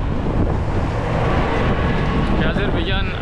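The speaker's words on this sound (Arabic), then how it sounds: "في رياح صراحه اليوم، في اجواء، في رياح هابه شديده" Strong wind buffets the microphone on a city street in Baku, Azerbaijan, a loud, continuous roar that nearly buries someone talking.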